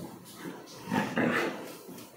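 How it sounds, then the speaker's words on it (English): A drenched street dog whimpers and makes low growling sounds up close, soft vocal bursts rising in the middle of a quiet stretch with no talk. "She's a street dog."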